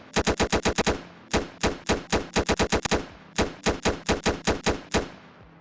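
A gun in a Roblox FPS game fires in rapid automatic bursts, loud, sharp and evenly spaced, with brief pauses between runs of shots and no voices.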